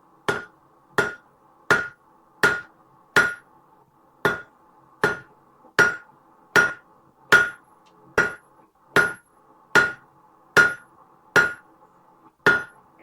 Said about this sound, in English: We are doing our first heat here on the anvil face.